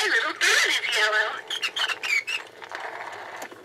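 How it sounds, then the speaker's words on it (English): A Mattel See 'N Say World of Colors toy from 1988 plays a short bird squawk, loud and close, followed by a brief synthetic voice from the toy. "My little bird is yellow."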